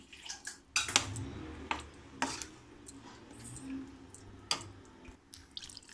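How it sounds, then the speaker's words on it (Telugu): Water added to paneer curry in a pan, with a low bubbling and spattering wash under repeated metallic clinks and scrapes of a spoon against the pan, close and moderate in level. "అందులో కొంచెం వాటర్ వేసుకుందాము."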